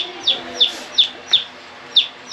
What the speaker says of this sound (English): Yeah, this little chicken, guys.